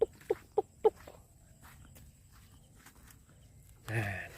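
A bird gives four quick, evenly spaced low hooting calls, fairly close, then falls quiet against soft outdoor background noise of rice fields.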